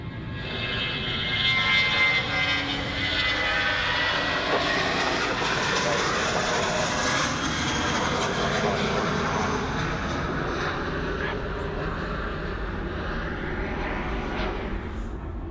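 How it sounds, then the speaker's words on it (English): Jetstar jet airliner on its takeoff roll from runway 34 right at Sydney Airport, a loud, steady roar of jet engines with a rising whine that holds throughout, fairly close and heard alone with no talk over it. "Another Jetstar now getting away, runway 34 right."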